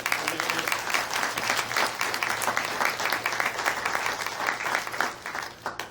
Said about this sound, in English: another round of applause for Amy for coming.